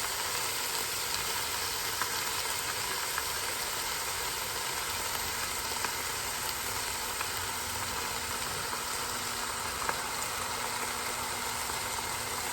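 Ground beef and regular, non-spicy Italian sausage browning in a pan give off a steady, close broadband sizzle that holds evenly throughout, with faint crackles scattered through it and no talking.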